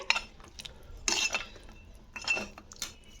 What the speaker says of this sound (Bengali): দিয়ে এবার এটাকে একটু নাড়াচাড়া করে দেবো পুরো সবজিগুলোকে